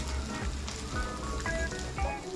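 Whole garam masala spices sizzle in hot oil in a home kitchen, a steady crackling fry with small pops scattered through it and no talk.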